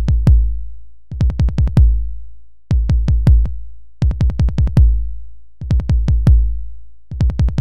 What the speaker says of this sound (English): The finished kick pattern sounds like this.